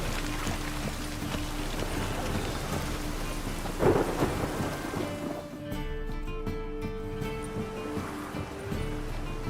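Steady heavy rain pours down with a loud thunder crack near the middle and rolling rumble, in the open-world game Witcher 3 in the city of Novigrad, continuous and dense throughout.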